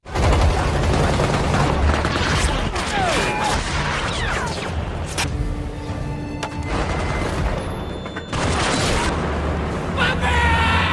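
Soldiers in an Indonesian action film open fire in a dense, continuous barrage of overlapping gunshots and automatic bursts, loud and close, with booms and shouting voices mixed into the battle.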